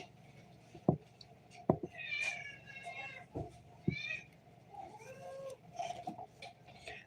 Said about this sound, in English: Do you have kitties that want to eat?